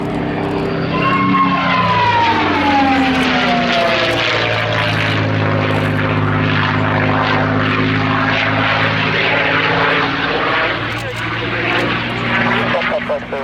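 A propeller aircraft in a red-tailed colour scheme flies at the Yeovilton Air Day airshow, its engine drone loud and continuous with shifting pitch as it passes, while a commentator talks over it throughout.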